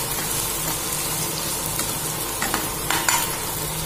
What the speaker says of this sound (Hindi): हींग के साथ ही हम इसमें डालेंगे प्याज, एक मिनट तक प्याज को भूनेंगे।